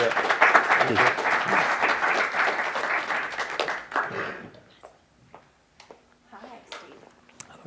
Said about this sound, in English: should we do a round of applause now?